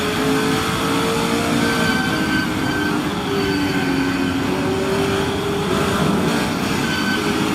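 Mini Challenge race cars pulling away together at a race start on a South African circuit, a dense, steady engine roar with whining tones rising and falling throughout, loud and continuous with no talk.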